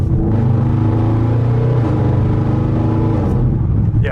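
A straight-piped 800hp Audi RS7 engine revving hard, a loud sustained deep rumble that holds steady from inside or beside the car.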